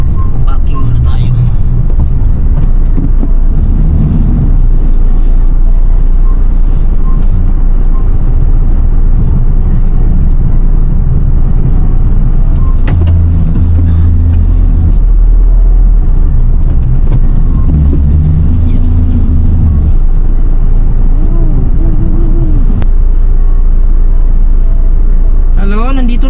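A car drives along and pulls in to park, its engine rumbling low and steady throughout, with brief shifts in tone as it slows, while people talk inside the vehicle.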